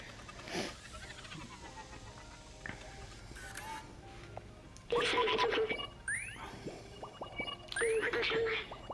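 Cat meowing in the video game Stray, a few short rising cries heard over a quiet game ambience, with brighter calls clustered near the end.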